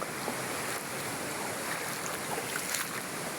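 Someone wades through a shallow river in the rural countryside, with steady close sloshing and rushing water under gusty wind noise on the microphone, and no talking.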